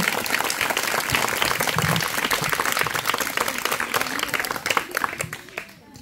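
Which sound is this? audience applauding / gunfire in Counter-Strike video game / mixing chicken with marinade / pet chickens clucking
audience applauding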